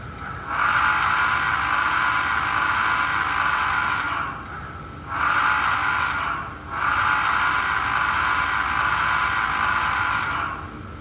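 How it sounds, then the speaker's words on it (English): A Westside Model Co GS-4 Southern Pacific #4450 model locomotive's whistle blows a steady, sustained tone in long blasts, briefly breaking off in the middle before sounding again, loud and close. "we have the whistle."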